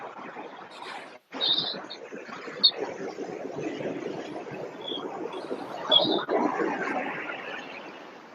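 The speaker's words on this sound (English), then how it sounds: "I think we're hearing birds too." A few scattered bird chirps ring out over a steady background of flowing water and outdoor ambience at a beach.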